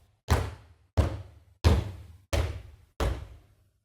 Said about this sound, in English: stomp kicks are kicks where you have a bunch of people stomping their feet